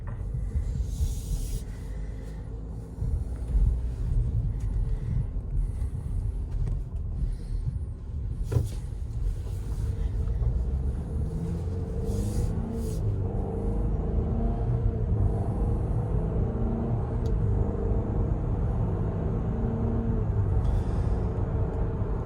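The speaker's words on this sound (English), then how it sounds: "It is a 4-cylinder, so it makes noise." Steady low engine rumble and road noise inside a 2020 Cadillac XT4 Premium Luxury AWD SUV with a 4-cylinder engine while driving, a continuous even drone with faint hiss and one brief click, no talking.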